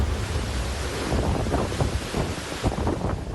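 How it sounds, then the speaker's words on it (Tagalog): Strong typhoon winds roar and gust through trees and houses in the town of Santa Ana, a loud, continuous rushing with buffeting surges close to the microphone and no voices. "tila sumisipol ang hangin sa lakas ng paghampas nito sa mga puno't kabahayan"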